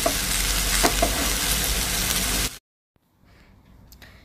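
Chow chow vegetable stirred in a frying pan, a loud close sizzle with scraping stir sounds for about two and a half seconds, then sudden near-silence with faint clatter.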